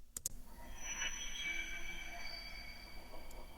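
A high ambient synth pad, processed with reverb, EQ and tremolo, sustains with shimmering metallic tones and gentle movement after a couple of sharp clicks at the start.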